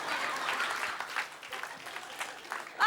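Audience applause from a comedy stage show, steady broadband clapping filling the clip at moderate loudness, with a brief louder burst at the very end.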